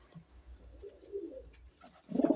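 A breeding pair of pigeons in a loft gives soft, low, rolling coos at close range, quiet at first and then building into a louder burst of cooing at the end.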